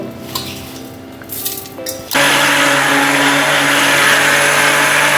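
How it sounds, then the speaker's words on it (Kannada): A kitchen mixer grinder blending chutney powder ingredients switches on after about two seconds of quiet room noise, then holds a loud, steady, close whirring grind to the end. "ಮಿಕ್ಸಿಗೆ ಹಾಕೋದು ಒಂದೇ ಬಾಕಿ."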